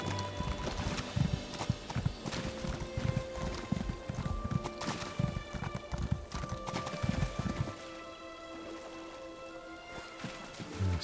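Rapid, rhythmic clip-clop of a horse's hooves while riding in the video game Elder Scrolls Online, close and steady over game music, with a brief neigh; the hoofbeats stop near the end, leaving ambient sound.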